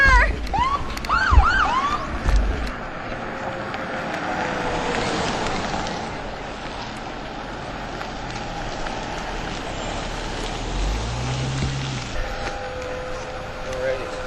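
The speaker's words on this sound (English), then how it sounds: "I hear sirens." Emergency vehicle sirens wail at a mock accident scene outside a high school, rising and falling tones that start close and loud and then fade into a distant drone, with people talking and shouting over them.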